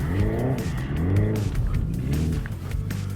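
A 641 hp 2024 Hyundai IONIQ 5 N sliding sideways in drift mode on a track, its electric drive whining in rising and falling sweeps over loud, continuous tire roar and squeal.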